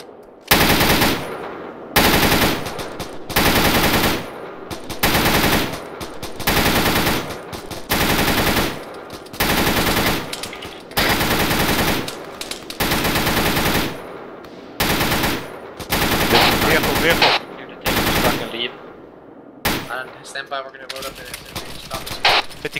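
Heavy .50 cal machine gun fire in the video game ARMA 3, loud sustained bursts in a steady rhythm with short pauses between them, up close, ending in scattered lighter shots.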